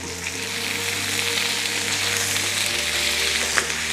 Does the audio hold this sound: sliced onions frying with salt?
yes